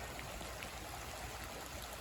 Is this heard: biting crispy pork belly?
no